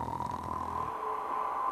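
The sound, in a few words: audience imitating a giant's snoring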